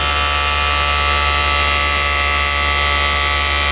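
An electric fan spins with a loud, steady motor buzz and constant tonal hum that never changes, close to the microphone with no voices.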